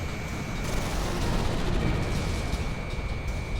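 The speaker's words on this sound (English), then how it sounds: "Garuda 1 launched missile" A missile fired by the Garuda 1 jet in the Ace Combat 6 video game comes as a steady, dense roar of rocket exhaust and combat rumble. It stays loud and continuous throughout, with a thin high whine running through it.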